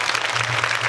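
A burst of audience clapping at a poetry event, dense and steady, from a crowd close by, lasting under a second.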